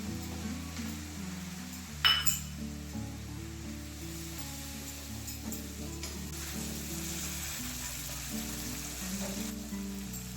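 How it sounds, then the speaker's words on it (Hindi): Dry spices tipped into onion and garlic frying in a pan, a soft steady sizzle under a low background hum, with a clink of a utensil near the start and occasional light stirring, no voices. "साथ ही प्याज लहसुन भुन गए हैं, तो इसमें हम सारे ही ड्राई मसाले डाल देते हैं।"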